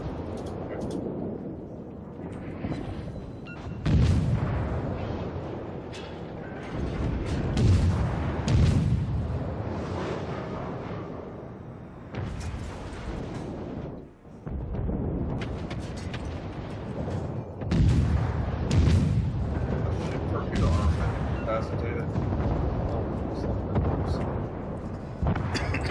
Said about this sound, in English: Oh, they're already shooting at me.